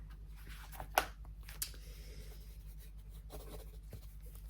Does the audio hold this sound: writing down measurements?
yes